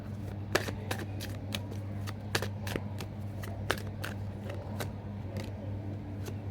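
Tarot-style cards are shuffled by hand in a quiet room, giving a quick run of crisp riffling slaps and soft flutters at close range with no speech.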